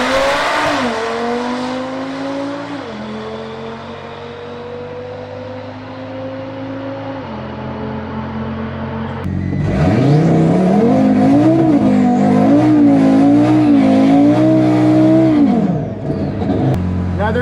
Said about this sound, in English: Another good burnout.